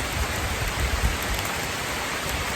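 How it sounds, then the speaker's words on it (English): Steady rain falls in a dense, continuous hiss, with heavier drops spattering on a nearby surface and no voices. "It's only raining here."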